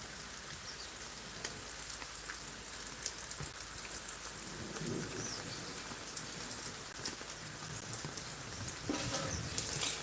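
Steady rain patters on surfaces in Miraj with a low rumble of thunder in the background, dense and continuous.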